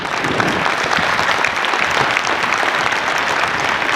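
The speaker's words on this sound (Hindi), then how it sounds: "तो उस हिसाब से ताली मिलनी चाहिए।" A crowd at a Republic Day speech gives loud, dense, sustained applause, a steady wash of many hands clapping with no talk over it.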